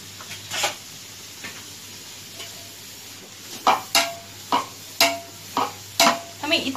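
Grated carrot and beetroot halwa roasts slowly in ghee under a low, soft sizzle, with a spoon scraping the pan in a series of sharp strokes that grow regular and louder in the second half.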